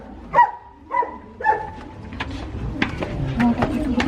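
German Shepherd dogs bark at a breeder's house, three loud, evenly spaced barks close by, followed by a busier stretch of lighter yelps and background noise.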